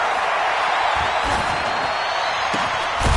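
A stadium crowd roars continuously in a PS4 football video game, a dense wash of cheering and noise with a few faint thumps.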